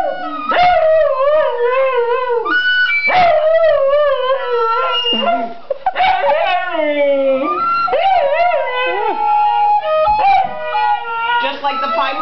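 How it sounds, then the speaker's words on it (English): Snoopy, a singing dog, howls in long wavering, tuneful notes, loud and close, rising and falling across several drawn-out phrases with brief breaks between them. "Snoopy, the singing dog"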